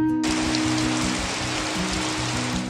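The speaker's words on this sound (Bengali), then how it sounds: "আসতে না আসতেই শুরু হলো ঝমঝমিয়ে বৃষ্টি" Heavy rain pours steadily onto a homestay courtyard in Pabong village, North Bengal, a dense continuous hiss that begins abruptly and stays loud and unbroken throughout.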